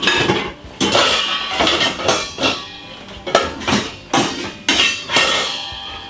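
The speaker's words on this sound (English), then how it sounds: "I'm going to be switching over my bowl because the bowl is a little bit too small" A metal mixing bowl is handled and set down while a Jamaican brown stew chicken is prepared in a home kitchen: about eight loud, close clanks and knocks of cookware in an irregular rhythm, with no talking.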